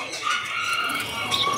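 Small cucak cungkok songbird at a bird kiosk giving a thin, high, drawn-out call, fairly close and fairly quiet, alone with faint background noise.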